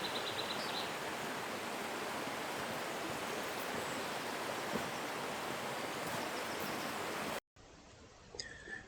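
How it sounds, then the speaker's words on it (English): A waterfall after overnight rain roars as a dense, steady wash of water from close by, without pause until a brief cut near the end; nobody speaks. "Now we're climbing various steps because we're getting nearer and nearer to the waterfall."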